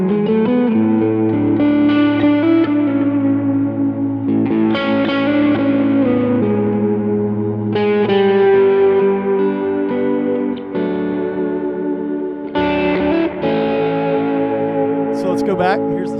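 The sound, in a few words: guitar played through BB preamp pedal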